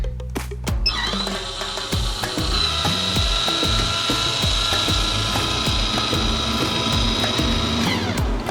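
A MaxFan roof vent cover opens on a Coachmen Nova RV with a close, loud burst of ratcheting, clicking mechanism noise, followed by a sustained whirring hum with repeated rhythmic ticks, and no speech.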